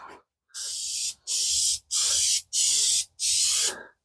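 Five separate bursts of aerosol spray coat a grimy intake manifold, each a loud, close hiss lasting about half a second, split by brief pauses.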